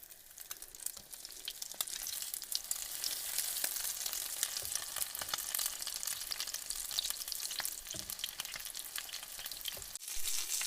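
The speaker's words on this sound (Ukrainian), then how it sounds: "Обсмажуємо на середньому вогні." Waffle-style liver cutlets sizzle and crackle steadily in a hot pan over medium heat, a close, continuous frying hiss with occasional pops.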